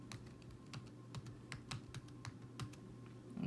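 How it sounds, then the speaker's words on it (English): Keystrokes on a computer keyboard typing a name into a design program's text box, a quick irregular run of light clicks at close range with no voices. "go ahead and write my name, type my name"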